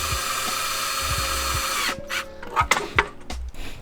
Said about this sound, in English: And then you're gonna screw it in.